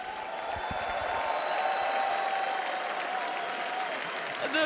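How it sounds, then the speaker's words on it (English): A large crowd at The International 2025 esports tournament cheers and applauds for team Heroic in a dense, sustained roar of clapping and shouting that holds steady throughout, with no one speaking. "The crowd is just going crazy for Heroic here."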